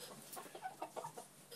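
Chickens near a backyard coop cluck in a few soft, short bursts, faint and somewhat muffled, over a low background hiss.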